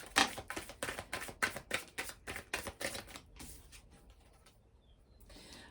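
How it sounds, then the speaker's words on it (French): Oracle cards being handled and drawn: a quick run of soft, crisp riffling clicks close by that thins out and fades to near silence. "alors on va prendre quelques cartes de l'oracle de Laura"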